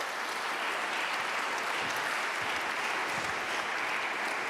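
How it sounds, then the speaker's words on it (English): Steady, dense applause from a large crowd at a co-operative congress as people come onto a stage, loud and continuous throughout with no voices standing out. "Give me a round of applause as they come up onto the stage."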